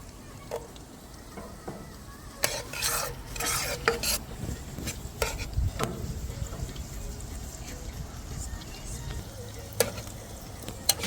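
Salmon seasonings fry in oil and butter in a pan, a soft sizzle broken by bursts of stirring and clinking cutlery, with faint background voices.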